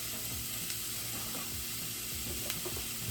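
Beef sizzles in a cast iron skillet preheated on medium-high, giving a steady close frying crackle with a couple of sharper pops and no voices.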